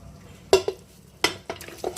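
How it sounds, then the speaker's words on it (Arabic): Spices and herbs such as dried coriander, cumin, salt and pepper go into a cocotte pot for couscous, making a few sharp clinks and rattling drops against the pot, close and separated by quiet gaps. "دابا غادي نحط كلشي في الكوكوت."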